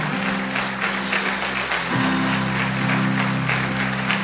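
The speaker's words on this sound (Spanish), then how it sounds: "vamos a darle un fuerte aplauso al Señor" A large church congregation applauds loudly and continuously over sustained instrumental music.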